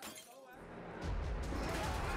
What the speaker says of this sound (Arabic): اعمل شيء عشان الكوبايه اتكسر